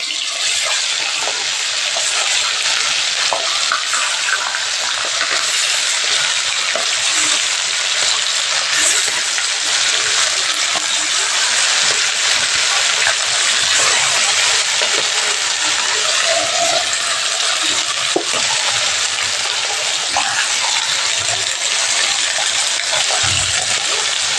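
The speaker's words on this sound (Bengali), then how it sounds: "যখন মাছ সব দিয়ে দিলাম কড়াইতে আমি আর একটু উল্টিয়ে দেবো" Pieces of hilsa fish with a little eggplant fry in a hot wok, giving a loud, dense and unbroken sizzling hiss that carries on evenly throughout, with occasional small crackles and no voices.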